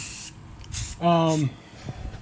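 A rattle can sprays primer onto a car roof in short hissing bursts, close and loud, with someone talking between and over the sprays.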